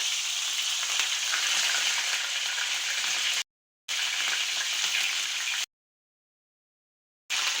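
Potato chip slices fry in hot ghee with a loud, dense sizzle that holds steady, breaks off briefly, returns, then cuts out near the end.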